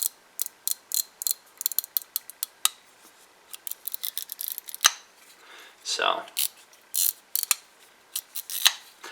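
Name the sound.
Spyderco Navaja knife blade ratcheting open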